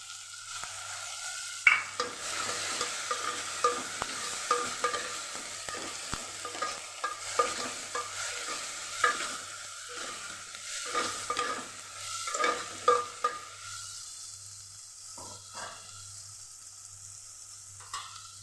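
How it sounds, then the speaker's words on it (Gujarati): A soft, continuous sizzle of tomatoes, ginger and chillies sautéing in a pan, with repeated scraping and tapping of a spoon as they are stirred, close up and without speech. "ટમેટાં આદુ અને મરચાંને ઉમેરી દઈશું એને સાતળી લેશું"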